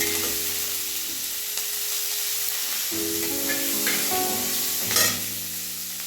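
Onion, tomato, garlic and green chilli fry in hot oil after the whole spices have been tempered. A loud, steady sizzling hiss carries on throughout, with occasional stirring and a brief louder spatter near the end. No one speaks.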